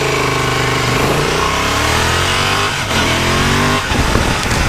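A Honda Transalp motorcycle engine revs loud and close as it accelerates through the gears on a Tokyo commute, its pitch climbing in repeated sweeps with brief dips at each shift.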